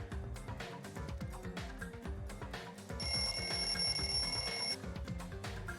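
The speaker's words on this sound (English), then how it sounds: "The lounge's wall clock alarm started ringing at 5:30." A wall clock alarm rings in the lounge in Danganronpa 2, a bright electronic ringing over the game's background music that runs steadily for about two seconds before stopping.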